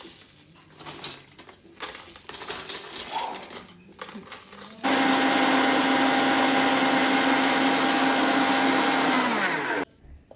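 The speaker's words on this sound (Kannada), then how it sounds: "ಇದು ಸ್ವಲ್ಪ ಬಿಸಿ ಆರಿದ ಮೇಲೆ ಮಿಕ್ಸಿ ಜಾರಿಗೆ ಹಾಕಿಬಿಟ್ಟು ಪೌಡ್ರ್ ಮಾಡ್ಕೋಬೇಕು" A mixer grinder switches on and whirs loud and steady for about five seconds, grinding roasted masala spices into powder, then stops abruptly; quieter kitchen shuffling and handling noises come before it.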